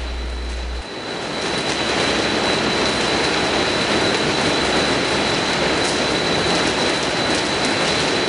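Strong wind, gusting 40 miles per hour and up, roars steadily against a RugRat tent outdoors, a loud continuous rushing noise with no talking over it.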